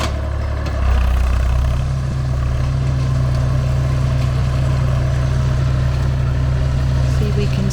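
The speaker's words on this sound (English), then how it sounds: "I'm going to have to shout because of the tractor noise." A tractor engine runs steadily and loudly close by on a hot farm day, a deep continuous drone with a low hum that holds throughout and slightly swells after the first second.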